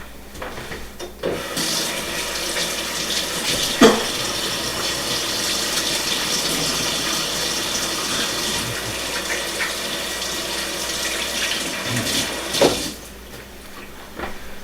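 A kitchen tap runs steadily while hands are washed beneath it, with water splashing and shifting a few times as the hands move through the stream and a brief knock near the end.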